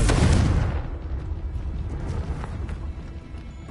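A Confringo blasting spell erupts in Hogwarts Legacy with a loud, booming burst at the start, then settles into a rumbling, crackling tail that keeps going for several seconds.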